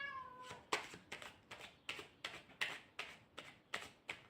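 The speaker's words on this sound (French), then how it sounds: "il y a le chat qui miaule" A cat meows once, faintly and briefly, followed by a steady run of quiet, regular clicking taps.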